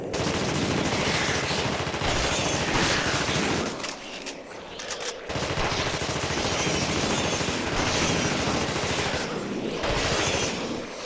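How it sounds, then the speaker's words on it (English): Sustained rapid gunfire from the video game The Thing, loud and continuous with dense bursts, a brief lull near the middle before the shooting resumes at full intensity. "The shooting also feels really good."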